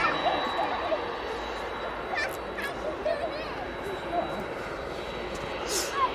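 A jet airliner departs East Midlands Airport, its distant engine rumble a steady wash under scattered bird chirps, with a faint steady whine running throughout.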